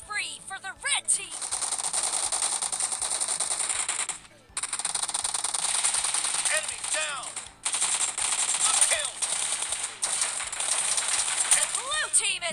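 Rapid bursts of automatic gunfire from the mobile battle-royale game PUBG Mobile, loud and near, rattling in long sustained volleys with brief pauses between them, with a voice talking now and then.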